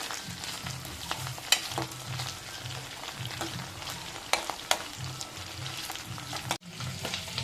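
Ingredients for an egg and dried fish curry frying in a pan, a steady soft sizzle with occasional sharp stirring clinks and scrapes, close and unaccompanied by speech.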